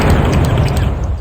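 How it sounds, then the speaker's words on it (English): A loud, dense explosive boom rolls continuously through a MechWarrior 2 NetMech battle as an internal ammunition store detonates, heavy low rumble with scattered crackling bursts and no speech. "Internal ammo explosion detected"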